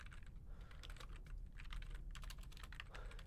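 Fingers clatter across a computer keyboard in quick uneven bursts of keystrokes, close and fairly quiet, with short pauses between runs and no speech.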